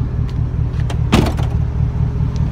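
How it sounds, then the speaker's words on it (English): The door of a worn Border Patrol Raptor truck slams shut with a brief metallic clunk and loose rattling, set against a steady low engine hum, no voices. "I'll close the door here again for you."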